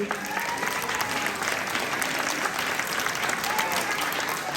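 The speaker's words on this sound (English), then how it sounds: "So a round of applause for parents." Sustained audience applause at a kindergarten end-of-year event, many hands clapping continuously for the parents, loud and even throughout with a faint crowd murmur beneath.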